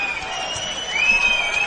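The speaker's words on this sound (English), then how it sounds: "Roaring crowd gives Junkyard Dog an added boost of adrenaline and confidence." A roaring arena crowd at a televised wrestling match between Junkyard Dog and British Bulldog, a steady wash of cheering and applause that swells slightly louder halfway through, with a high sustained tone running over it.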